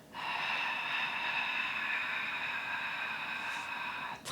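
A long, forceful exhalation pushed out through the mouth during a postnatal yoga exercise, loud, breathy and close, held steadily for about four seconds before trailing off.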